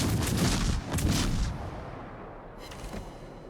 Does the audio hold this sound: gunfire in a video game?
yes